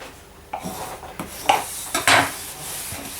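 Someone trims the excess off a cake, probably a fondant covering, on a cake shaped like a Nintendo 2DS. A few light scraping and tapping sounds come up close, spaced irregularly over a few seconds.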